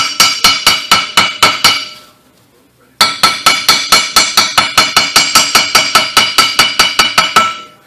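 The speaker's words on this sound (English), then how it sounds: "since I'm really fond of a chipping hammer, see, I just busted a big chunk out of here" A chipping hammer strikes rusty scale off the exhaust manifold of a 1996-2000 Honda Civic in rapid, evenly spaced metallic clinks. A short burst is followed by a pause and then a longer steady run of close, ringing blows.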